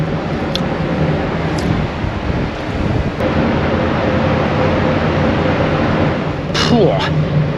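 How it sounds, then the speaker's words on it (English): Strong wind buffets the microphone on the deck of a Stena Line ferry near Rotterdam port, a constant low rumble, with faint water and engine noise underneath and a brief squeal near the end. "Yeah, it's windy"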